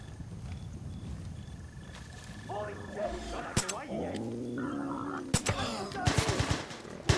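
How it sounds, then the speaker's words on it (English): Gunfire in the Far Cry 5 Hours of Darkness game, sharp shots and a short rapid burst cracking amid game noise, with a voice talking in places. "Chavez, you gotta gun them down, homie."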